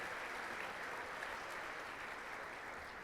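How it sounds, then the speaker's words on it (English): A crowd at a school foundation recognition breakfast applauds the Henniger High School Jazz Combo, steady dense clapping filling the room at moderate distance without pause. "We also want to give a round of applause to the Henniger High School Jazz Combo"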